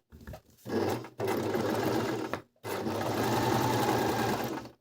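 A Brother ML-55 sewing machine runs a straight stitch in bursts, fast and close, with a brief stop near the start and another pause before a long steady run.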